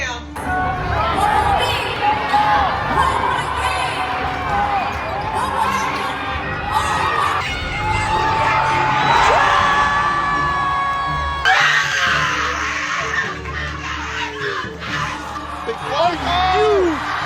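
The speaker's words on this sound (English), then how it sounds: "The crowd is on their feet" Loud, dense arena crowd at a basketball game in Las Vegas during the NBA Creator Cup, with screaming and cheering swelling through the final seconds, sneaker squeaks and an announcer talking over the roar throughout.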